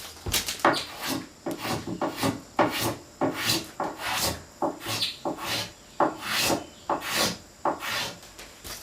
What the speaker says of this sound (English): This shave leaves a beautiful surface.